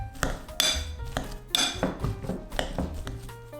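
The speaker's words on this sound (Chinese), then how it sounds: "先把土豆捣碎。" Boiled, drained potatoes are mashed hot in a bowl with a masher, making about six dull, rhythmic thumps close up, roughly one a second, with a clink of metal against the bowl on each stroke.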